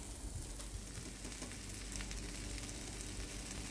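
Chicken breast pieces sizzle and fry steadily on a hot tawa griddle, a dense continuous crackle that stays close and even throughout, with no talking.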